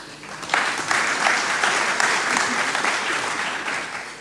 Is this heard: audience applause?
yes